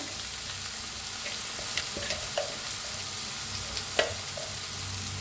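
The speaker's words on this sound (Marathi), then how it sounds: "ह्याच्यात टाकूया कढीपत्ता, हिंग, छान भाजून घेऊया" Curry leaves and asafoetida fry in a pan of cumin, chopped onion and ginger, giving a steady, even sizzle with a few soft clicks and stirring taps, close by and with no talking.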